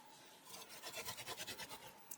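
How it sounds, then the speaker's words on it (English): A tool scrapes back and forth across a fractured paper card during burnishing, making a quiet, close rhythmic rasping of about a dozen quick strokes that ends in a few faint taps. "I open it and just give it a good burnish"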